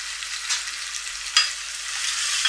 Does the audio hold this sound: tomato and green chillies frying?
yes